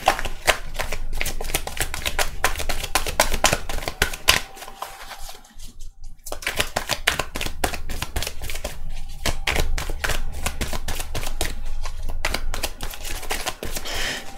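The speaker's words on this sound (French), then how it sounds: "On va tirer 4 cartes de celui-ci." Playing cards being shuffled and drawn for a fortune-telling reading, with a steady run of crisp, rapid riffling flicks close up. A brief lull comes midway before the dense shuffling resumes.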